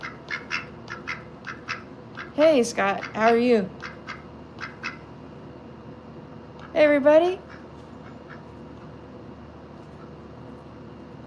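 A duck quacks during a live lemonade-making stream, two loud bursts of raspy quacks a few seconds apart over a quiet background, with a person greeting viewers between them.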